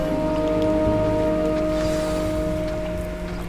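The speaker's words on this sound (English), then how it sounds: "It was raining." Steady rain falls in the Hogwarts Legacy video game, a continuous patter of drops on surfaces that plays under low sustained in-game music and ambient tones, moderately loud, with no speech.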